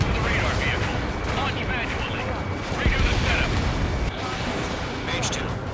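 Explosions from an aerial dogfight in the combat flight video game Ace Combat 7, with rolling booms and rumbling blasts under continuous engine roar while a voice talks over them.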